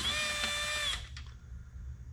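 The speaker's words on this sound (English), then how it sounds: "I got a cordless drill here with the T40 bit on the end." Cordless drill fitted with a T40 bit backs a short factory bolt out of a Kemimoto door mount, whining steadily at close range for about a second before winding down, then quiet handling noise.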